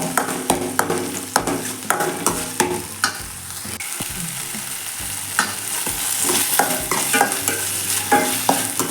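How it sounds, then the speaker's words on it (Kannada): Tomato frying in a pan for mushroom masala, a steady close sizzle with a spatula scraping and clacking against the pan in a brisk, regular stirring rhythm, loud and without talk. "ಒಂದು ಟೊಮೆಟೊ ಫ್ರೈ ಮಾಡಬೇಕು."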